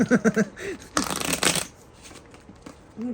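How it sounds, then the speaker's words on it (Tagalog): A deck of cards riffle-shuffled at close range in a few quick bursts, dense crackling flutters, with brief voices talking at the start and end. "Nakapagbalasa din."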